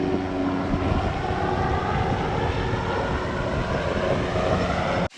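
Steady, loud engine roar with a throbbing rotor-like drone from a helicopter seen from above at a beach, continuous and close, overlaid with wind buffeting, cutting off abruptly at the end.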